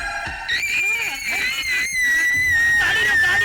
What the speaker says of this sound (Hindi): ये उसी की चीख है।